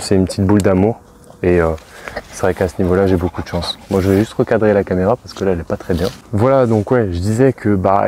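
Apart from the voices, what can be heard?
No everyday noise stands out behind the speech.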